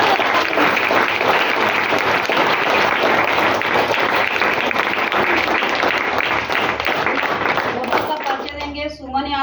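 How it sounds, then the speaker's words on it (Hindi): Loud, sustained applause from an audience honoring Dr. Lim at a DXN gathering, dense clapping filling nearly the whole stretch before tapering off near the end, where a voice begins over it. "तो डॉक्टर लिम सर के लिए जबरदस्त ताली होनी चाहिए।"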